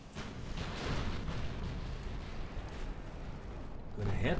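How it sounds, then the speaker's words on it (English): Naval gunfire and torpedo hits in the warship strategy game Ultimate Admiral Dreadnoughts, a continuous dense rumble of booming cannon blasts and explosions rolling together, with a heavier burst at the end. "we got some torpedo hits here"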